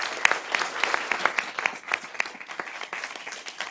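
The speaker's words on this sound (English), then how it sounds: "Please give them a round of applause." Audience applauding a conference panel, a steady wash of many hands clapping at moderate distance with scattered sharper claps standing out, no talk over it.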